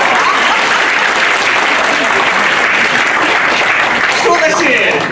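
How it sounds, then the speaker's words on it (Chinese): A church congregation claps loudly and continuously for a skit by elderly members, a thick, steady roar of many hands with some voices mixed in. "老人家不容易，多给点掌声给你。"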